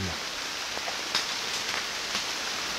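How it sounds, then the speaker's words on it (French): Steady rainfall during a thunderstorm hisses evenly throughout near an old convent, with a few sharper drops or taps standing out now and then; no voices. "il pleut, il tombe sous un orage, on a un orage"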